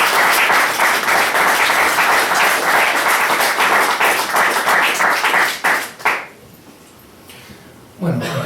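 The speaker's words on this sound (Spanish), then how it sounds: "Un aplauso para eso." A loud burst of audience applause, dense and sustained for about six seconds before fading out, followed by a quiet pause and a voice beginning.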